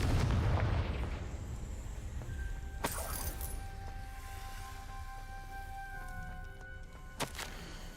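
A Confringo blasting spell explodes in the video game Hogwarts Legacy: a loud boom opens, then two sharp cracking impacts follow a few seconds apart over a lingering rumbling tail.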